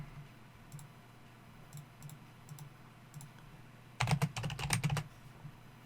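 A burst of quick, close computer keyboard typing runs for about a second after a stretch of quiet room hum with a few faint clicks, no one talking.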